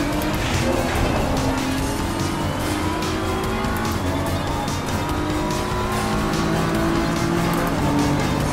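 A race car roars past in the racing game Assetto Corsa Competizione, engine pitch sweeping with gear changes and tires squealing, loud and continuous amid other cars.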